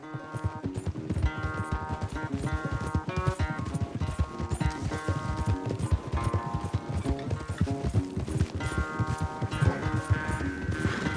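Horses gallop in a race in the video game Red Dead Redemption 2, with rapid, steady hoofbeats drumming throughout under a continuous musical score.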